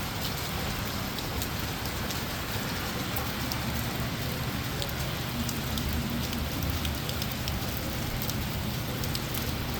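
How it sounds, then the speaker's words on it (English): Heavy rain pours steadily during a big storm in Memphis, a dense continuous hiss of drops on surfaces with scattered sharper patters, even and unbroken, with no voices. "Whereas here it's just like rain and rain and rain."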